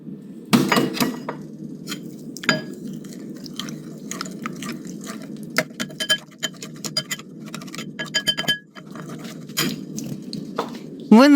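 A spoon stirs sifted flour into water in a pot, giving a run of quick light clinks and scrapes that come irregularly against a low steady background hum.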